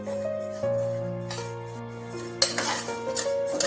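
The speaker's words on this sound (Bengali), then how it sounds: "ডালটা ভাজা হচ্ছে।" A metal spoon scrapes and clinks against a pan as moong dal is dry-roasted and stirred without oil, with a steady hum under the stirring and a burst of louder scraping near the end.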